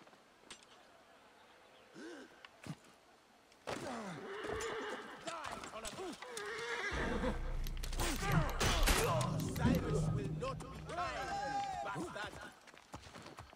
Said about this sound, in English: My horse and my camel are everywhere.